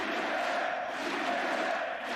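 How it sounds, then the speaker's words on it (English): A large arena crowd at the League of Legends Worlds chants for Team Solo Mid, a steady, dense roar of many voices filling the space continuously without a break. "the crowd, they're alive with the sound of Team Solo Mid"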